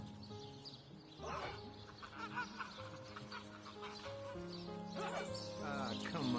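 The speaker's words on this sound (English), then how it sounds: "Don't let that rooster escape!" Rooster clucking in the fantasy video game Divinity: Original Sin, with short bursts of fowl calls over steady game music and ambience throughout.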